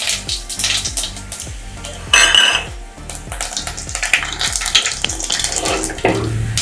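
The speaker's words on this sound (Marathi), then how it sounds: "आता फोडणीसाठी हे जिरे मी टाकणार आहे." Close sizzle of cumin seeds frying in hot oil, with crackling pops and a few clinks of a pan, a brief louder burst of hissing in the middle.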